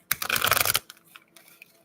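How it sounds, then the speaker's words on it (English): A thick tarot deck of about 90 cards being shuffled by hand, a close burst of rapid riffling and slapping card noise, followed by a few quieter card taps. "It's so thick that I have to shuffle in a very unique way"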